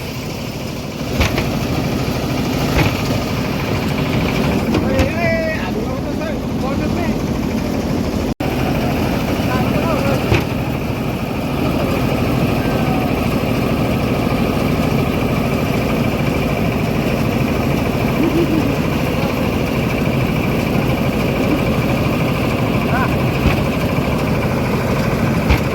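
A farm tractor engine runs steadily, a continuous chugging drone with a constant level throughout, close by and without clear speech.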